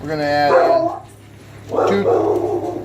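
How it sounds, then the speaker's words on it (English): A dog barks twice, close and loud, with a person talking over and between the barks. "She likes barking at random things, I guess."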